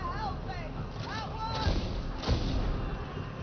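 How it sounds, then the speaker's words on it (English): A grenade explodes in a co-op shooter game, giving a couple of dull booming thumps over steady game noise and chatter. Voices talk over most of the clip. "Throw a grenade."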